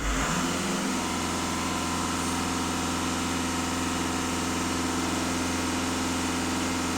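A 1.6 TDI diesel engine in a VW Touran rises from idle and holds a steady, even drone at raised revs for several seconds, loud and close with no talking.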